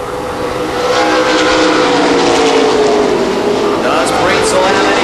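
Mid-American stock cars race at the Milwaukee Mile, a loud, continuous roar of engines sweeping past on the oval, with a commentator talking over the racket throughout.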